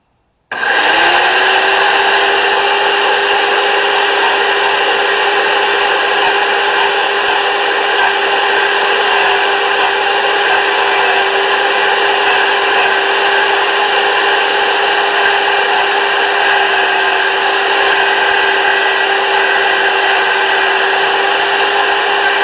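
Abrasive diamond wet saw cutting tile, a steady high whine that spins up quickly and holds constant, loud and close, with no talking.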